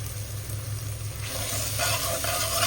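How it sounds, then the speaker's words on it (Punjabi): Chopped onions frying in a pan for aloo wadi sabzi, a steady close sizzle with stirring scrapes over a low background hum. "ਪਿਆਜ਼ ਭੁੰਨ ਰਹੇ ਨੇ"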